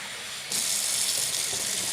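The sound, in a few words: hot water running from tap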